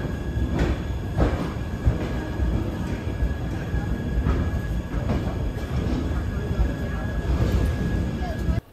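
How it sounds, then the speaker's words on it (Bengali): The Sampark Kranti Express pulls into platform 1 at Gaya station with a loud, close rumble, wheel clatter and rolling rail noise. Faint voices can be heard in the background. "ট্রেন আমাদের এখন এসে পৌঁছেছে গয়ার 1 নম্বর প্ল্যাটফর্মে"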